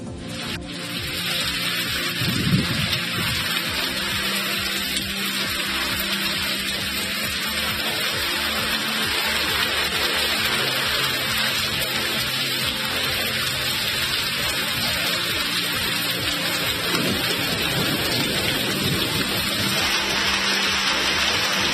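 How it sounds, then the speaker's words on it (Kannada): Heavy rain with hail pours down steadily in a village area of Karnataka during a windy storm, a loud, continuous dense hiss of water striking surfaces throughout, with no voices. "ಆಲಿಕಲ್ಲು ಸಹಿತ ಧಾರಾಕಾರ ಮಳೆಯಾಗಿದೆ."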